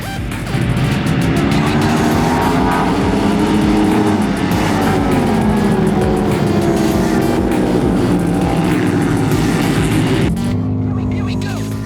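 Harley-Davidson XR750 flat track racing motorcycles roaring around the high-banked dirt oval at Chico, California during an American Flat Track national, a loud sustained engine drone with shifting pitch throughout, easing off near the end.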